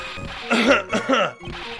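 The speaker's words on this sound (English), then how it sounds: "Cough, cough, cough." An exaggerated, phony cough from a character in the Phoenix Wright: Trials and Tribulations game, delivered as a few short voiced bursts, fairly loud and close with no other sound around it.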